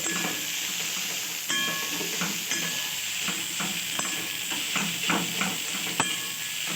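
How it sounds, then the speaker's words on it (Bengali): Fish fry with onions in a hot pan, a steady close sizzle broken by repeated scraping stirs that land at irregular intervals. "এরপর এটাকেও আমি খুব ভালোভাবে ওর সাথে মিশিয়ে ভালোভাবে আরও ভেজে নেব"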